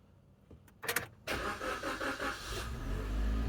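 A keyless-entry car at a budget used-car auction starts up: a few clicks, a brief starter crank, then the engine catches and settles into a close, steady idle.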